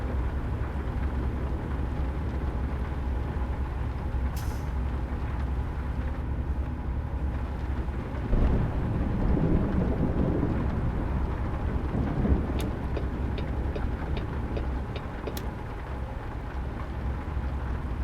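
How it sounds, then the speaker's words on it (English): Thunder rolls in the American Truck Simulator driving game, a low, swelling rumble midway through, over a steady hiss of rain and road noise. "Got some thunder rumors."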